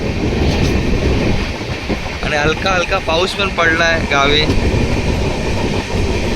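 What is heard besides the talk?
moving passenger train on the Konkan route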